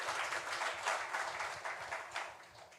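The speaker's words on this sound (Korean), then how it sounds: "우리 하나님께 영광의 박수 올려드리겠습니다" A church congregation claps together during a worship service, the applause rising and falling in gentle waves at moderate volume with no voices over it.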